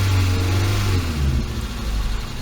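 A car engine's revs fall away from a steady, loud hum, the pitch sliding down as it settles toward a low idle just under 900 rpm, close by with no talk over it.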